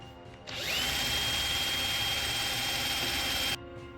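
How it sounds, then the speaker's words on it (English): Cordless drill boring a hole through a metal torque tube, one sustained high whine that holds steady for about three seconds with no talk, then cuts off. "Let's get this hole drilled, get the bolts in"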